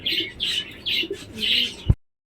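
Domestic pigeons coo nearby in a few repeated, close calls, ending with a short thump.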